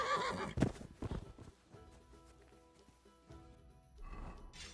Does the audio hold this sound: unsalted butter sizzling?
no